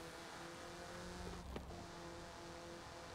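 Faint, steady car engine drone with a soft mechanical whir partway through, from a car in the Forza driving game, low and even throughout.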